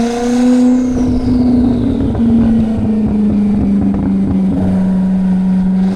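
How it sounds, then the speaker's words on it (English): Koenigsegg CC850 exhaust, a loud sustained engine drone that holds a steady low pitch after a brief rise at the start, close by with no talk over it. "Exhaust sounds good. It's quite loud, isn't it?"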